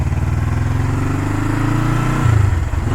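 A 1975 Honda CL360 Scrambler motorcycle engine runs loud and close, its steady low idle rising into a revving pull as the bike sets off, with the pitch climbing near the end.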